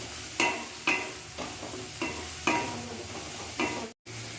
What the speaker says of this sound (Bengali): রসুনটাকে ভালো করে এবার তেলের মধ্যে কষে নিতে হবে